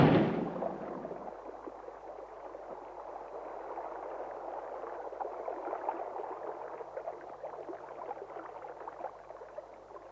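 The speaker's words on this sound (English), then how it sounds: "When a shot is well placed, the explosion can cripple or kill a shark." Underwater blast from a shark hunter's bang stick firing a rifle or 12-bore cartridge: a sudden sharp bang, then a long fizzing, bubbling wash of water that slowly fades.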